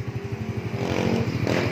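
A Yamaha Mio J scooter fitted with an SKR racing exhaust pulses at idle, then its engine note rises briefly as the throttle is opened, close and loud.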